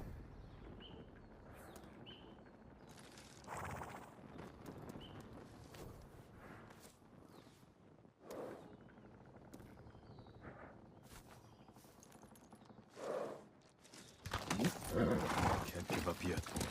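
Horses neighing and galloping in the video game Ghost of Tsushima, several whinnies and hoofbeats rising from the game soundscape before a loud burst of rapid hooves near the end, with voices speaking over parts of it.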